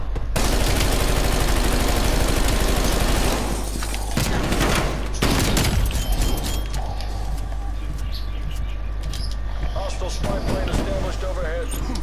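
Tactical rifle fire rings out in a shooting video game in rapid loud bursts, then breaks into scattered single shots, with someone talking over the gunfire.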